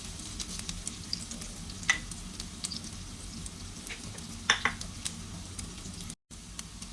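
Malunggay leaves brown in a frying pan with sauteed aromatics, a soft continuous sizzle broken by small crackles and a few sharper pops and stirring clicks, close but quiet, no voices.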